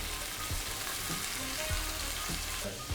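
Black beans frying in a pan with fried onions, hot pepper and garlic give a steady, close sizzle that runs throughout, with a few soft stirring knocks and no talking.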